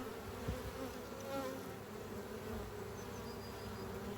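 Honeybee foragers carrying pollen buzz as they land at a hive in spring, a close, continuous drone of wingbeats with small swells of louder buzzing, alone without talk.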